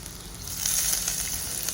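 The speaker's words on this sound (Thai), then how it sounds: "เราก็เจียวนะ เจียวให้เหลืองเลยนะ ให้สุกเหลืองเลย" Chopped garlic and mature ginger fry over medium heat in a pan, giving a steady close hiss of sizzling oil that swells a little partway through, with no talking.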